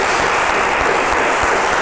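Dense, loud studio-audience applause at a fashion careers event, a continuous wash of many hands clapping for a brief stretch with no voices.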